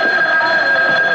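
A steady, bright electronic ring sounds continuously for just over a second, loud and close, standing in for a telephone in an old-time radio mystery drama; no voices over it.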